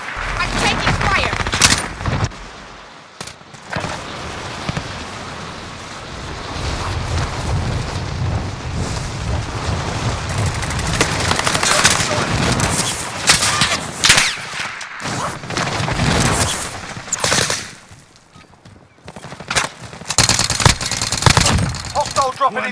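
Sustained automatic gunfire and bursts of shots in the Warzone battle royale video game, loud and dense, with brief lulls before heavy firing resumes.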